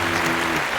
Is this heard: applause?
yes